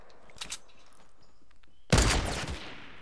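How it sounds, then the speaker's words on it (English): Gunfire in the Fortnite Battle Royale video game: a couple of faint shots early on, then one loud, close burst of rapid shots that rings out and fades over about a second. "it sounds like his gunshot's very close"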